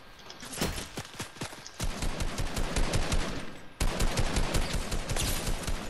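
Gunfire in the video game Fortnite: rapid bursts of automatic shots, loud and close, coming in three dense volleys with brief breaks between them.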